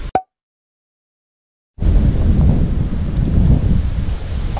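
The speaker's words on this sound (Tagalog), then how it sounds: "Ang lakas ng hangin" Strong mountain wind buffets the microphone in a steady, loud roar after a brief silence, with low rumbling gusts throughout.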